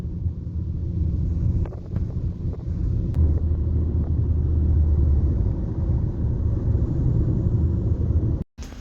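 Taxi ride up to Mijas Pueblo, Spain: a steady low engine and road rumble inside the car with wind buffeting and faint rattles, continuous and fairly loud, ending in a brief dropout.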